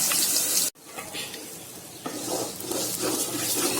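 Rice goes into a pot and starts frying for biryani, a loud, steady close-up sizzling hiss with a brief cut early on, then continuing stirring noise and crackle.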